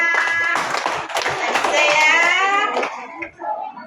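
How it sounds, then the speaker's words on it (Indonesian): Schoolchildren clap their hands together in a classroom during a lesson, with the short burst of clapping mixed with young voices calling out. "Tepuk tangan untuk Nur Hafizah."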